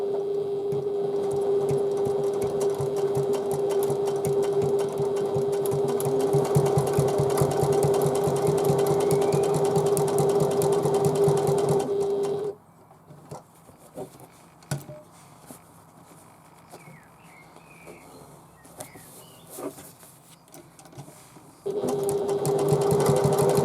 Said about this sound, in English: stitch along 1/4 inch seam allowance